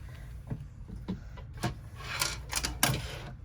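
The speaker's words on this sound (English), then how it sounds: "I usually just use the scissors for the last little bit there." Scissors snip through rucksack fabric in a few close, sharp cuts, irregular in rhythm and growing busier toward the end, with no talking.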